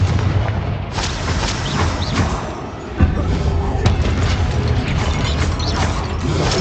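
Repeated Confringo blasting-spell explosions and clattering spell effects in the video game Hogwarts Legacy, a loud, dense, continuous barrage of impacts with no break.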